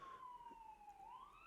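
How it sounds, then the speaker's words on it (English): An ambulance siren wails outside, faint and distant, its tone sliding slowly down and then rising again over a low background hum. "It's an emergency vehicle of some sort. Sounds like an ambulance."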